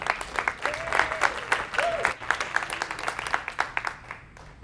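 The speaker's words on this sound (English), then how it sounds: "Give yourselves a round of applause." A small audience claps for a short stretch, with distinct individual claps audible within the applause and a faint tonal chirp appearing twice, fading out toward the end.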